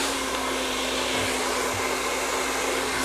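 A hair dryer blows steadily on styled hair, a loud, constant broadband whoosh with a fixed motor hum, running unbroken and close by with no voices.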